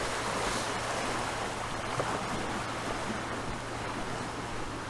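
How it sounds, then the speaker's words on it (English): A large body of flowing water rushes in a continuous, loud broadband roar with no pauses, close to the microphone, with no talk. "There's a lot of water."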